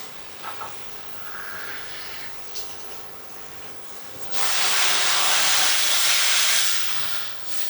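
Tinned tomatoes tipped into a hot pan of chakalaka vegetables set off a sudden loud, steady sizzling hiss that lasts several seconds, after a quiet stretch with a few faint clinks.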